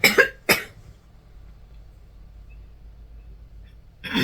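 A person recovering from a cold coughs up close in quick bursts, two sharp coughs and then another, followed by a quiet pause and a further cough starting at the end.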